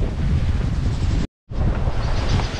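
Strong wind roars steadily across the microphone at sea amid high waves, a rushing, surf-like wash, cut by a brief moment of silence before the gusting resumes.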